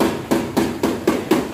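Small hammer tapping out dents in the fender of a Chevrolet Tracker during paintless dent repair, six evenly spaced, moderately loud metallic knocks heard close and alone.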